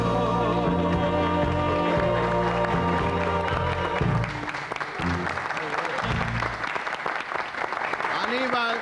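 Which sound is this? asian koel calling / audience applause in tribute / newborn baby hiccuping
audience applause in tribute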